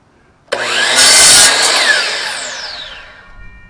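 A miter saw motor kicks in abruptly, surges to a loud, high whine, then slowly winds down as the blade spins to a stop, with no talking.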